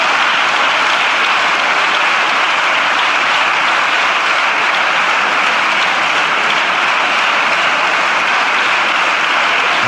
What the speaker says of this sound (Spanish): Han estado aplaudiendo durante casi un minuto, con efusivos gritos de algarabía